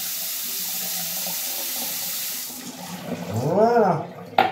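Lukewarm water poured from a tap into a dish until it overflows, a steady hissing pour that fades out, followed by a brief voice and a short clink at the end.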